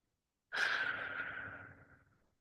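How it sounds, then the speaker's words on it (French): A single deep breath is heard up close, taken in or let out as one long airy breath that starts suddenly and fades slowly over about two seconds. "prenez une grande respiration profonde."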